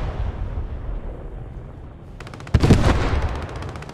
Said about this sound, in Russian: А по тебе танк бьет.